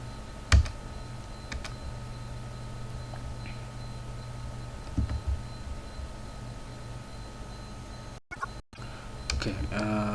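Scattered clicks of typing on a computer keyboard, sparse and close, entering a command, over a low electrical hum with short gaps of quiet.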